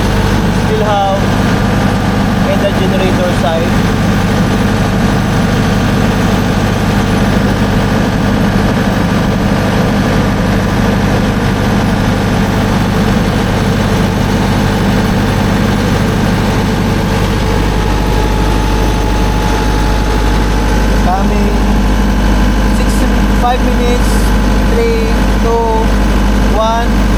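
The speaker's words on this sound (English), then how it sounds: "since the generator is still running" An 80 kVA containerized generator runs continuously, a loud steady low-pitched engine drone with a constant hum that never lets up, and a voice talks faintly over parts of it.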